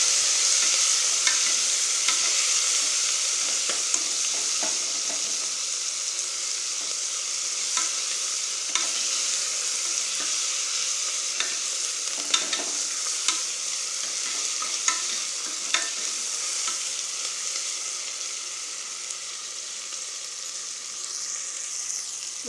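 Onions and tomatoes sauté in a pan for Tamil-style mutton curry, a soft continuous sizzle broken by regular scraping clicks of a stirring spoon, moderately close and with no talking.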